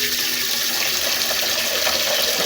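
Water mixed with Dettol pours steadily from a tap into a container during fridge cleaning, meant to clear an egg smell, giving a continuous close broadband splashing rush that holds even for the whole stretch, with no talking.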